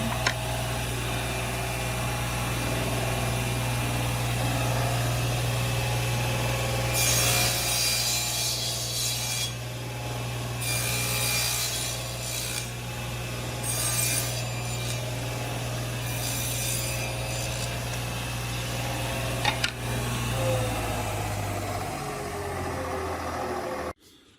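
A table saw cuts a dado groove in wood, the motor humming steadily throughout while bursts of rougher, louder cutting noise come and go midway, before the motor winds down at the end.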